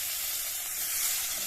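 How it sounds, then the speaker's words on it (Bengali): Bay leaf, chopped garlic and onion fry in hot oil, a steady bright sizzle with a constant crackling hiss, close and unbroken throughout the short stretch. "তারপর এই তেলটাতে আমরা একটা তেজপাতা দিলাম, একটা রসুন কাটা, পেঁয়াজ কেটে"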